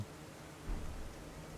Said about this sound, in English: In the pouring rain at night.